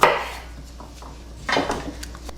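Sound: knife cutting garlic in half

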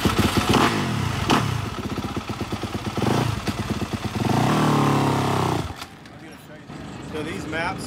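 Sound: four-stroke dirt bike engine running

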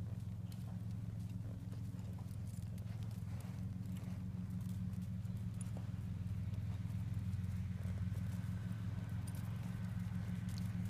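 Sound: horse hooves walking on a riding circle

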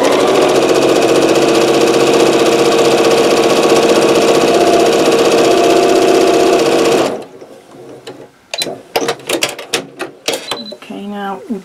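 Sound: sewing machine stitching quilt fabric

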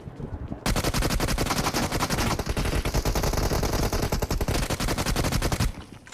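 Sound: gunfire in the video game BGMI

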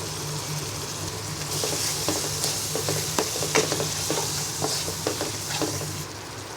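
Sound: spice masala being stirred and sautéed for shol fish

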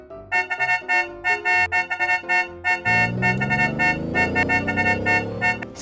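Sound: car horn honking

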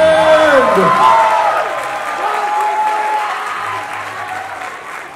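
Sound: audience applause for the Mr. Charming winner

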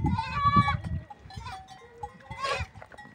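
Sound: goat kid suckling among farm goats

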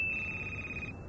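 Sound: phone ringing in the video game Crimson Snow

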